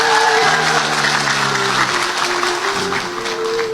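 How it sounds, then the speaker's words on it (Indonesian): Audience applauding for the Sleman police at a religious sermon, a dense, steady wash of clapping that holds for a few seconds with a faint voice tone underneath. "Tepuk tangan untuk Polres Sleman."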